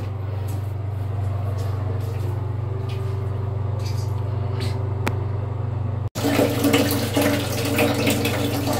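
Tap water runs steadily for a shower or bath, a continuous close wash of noise that cuts out for an instant midway and then returns slightly louder, with no talking.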